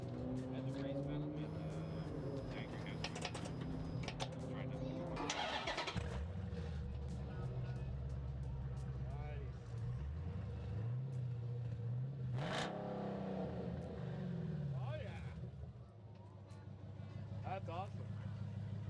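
Car engine fitted with a Black Widow exhaust, running loud and continuous with surges and revs, a deep rumble throughout, with people talking over it.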